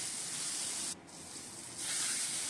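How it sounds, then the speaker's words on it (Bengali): Hot water pours into a cooking pan of Katla fish curry, giving a loud, steady hissing sizzle that briefly dips and then swells again. "এবার আমি গরম জল করে রেখেছিলাম, সেই গরম জলটা ঢেলে দিয়ে দিলাম 1 বাটি।"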